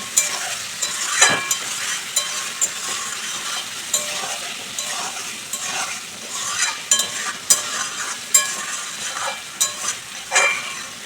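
A spatula stirs a sizzling pan of bata fish curry with ridge gourd, potato and spices, giving close, steady frying hiss broken by irregular scrapes and light metallic clinks against the pan, with no voices.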